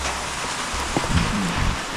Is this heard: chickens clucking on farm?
no